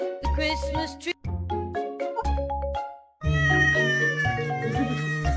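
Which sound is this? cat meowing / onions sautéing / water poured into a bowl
cat meowing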